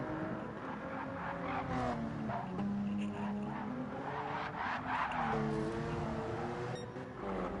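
Race car in a racing video game at Bathurst oversteering on hard tyres up the hill as power goes down, a steady close engine drone with wavering pitch and light tyre scrub, no voices.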